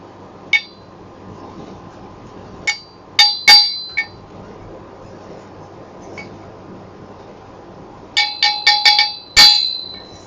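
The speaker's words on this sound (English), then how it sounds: "we're just going to get the chisel, just give it a little bit of a tap" A hammer taps a steel chisel against a part on a bicycle, a 3-speed beach cruiser, giving bright ringing metallic clinks. The strikes come as scattered single hits and short clusters, close and loud against a quiet background.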